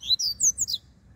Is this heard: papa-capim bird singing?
yes